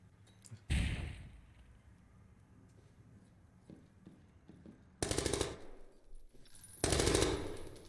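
Automatic gunfire in the tactical shooter Zero Hour during an esports match, three loud rapid bursts separated by quieter moments with faint clicks.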